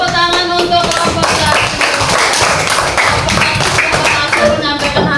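A classroom of students claps for a group at a school presentation, dense, loud and close, in steady rhythmic bursts lasting the whole stretch.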